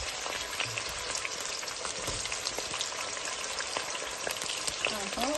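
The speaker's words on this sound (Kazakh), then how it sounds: "Осы етімізді кішкене қуырып аламыз." Mutton and onions fry in hot fat in a heated pot for Kazakh kuyrdak, a steady, close crackling sizzle with occasional stirring scrapes, uninterrupted throughout.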